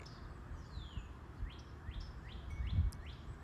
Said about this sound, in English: Y'all hear those birds?